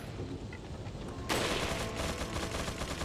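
Gunfire in the video game Resident Evil 4, a dense burst of shots that kicks in partway through and continues as rapid, rattling fire over steady game background noise.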